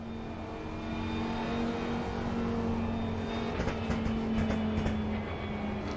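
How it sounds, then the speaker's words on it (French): Race car engine idling and revving in Assetto Corsa Competizione, a steady droning hum, with a quick run of crackling exhaust pops from the back half onward. "les pétaradages au niveau de l'échappement, c'est encore un petit détail de niveau supplémentaire"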